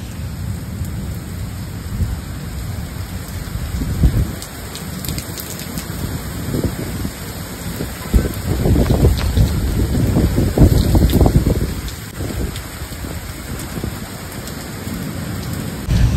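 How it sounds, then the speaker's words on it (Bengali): Heavy rain pours down during a thunderstorm with strong wind, a dense steady roar of rainfall swelling louder midway, with rumbles of thunder and no voices. "আর এখন আবার মানে বৃষ্টির সাথে ঝড়ও হচ্ছে প্রচন্ড"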